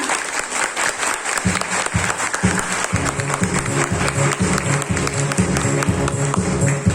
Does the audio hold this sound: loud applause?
yes